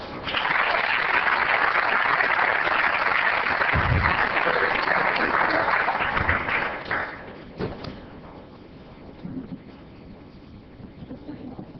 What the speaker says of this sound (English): Let's help celebrate with a round of applause.